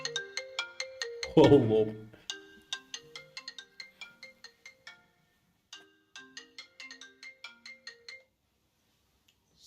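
Melodic phone ringtone chiming in repeated short bursts, clear and close, with a brief spoken word over it early on and a pause partway through before the tune resumes.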